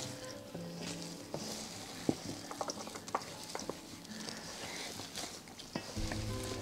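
Meatloaf mixture is mixed, folded and pressed down by hand, giving soft wet squelches and patting sounds at an uneven rhythm, close and fairly quiet.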